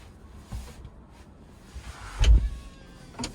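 A 2021 Tesla Model S power trunk closes with a faint electric motor whir, followed by a soft thud as the lid latches, in a quiet setting with no talk.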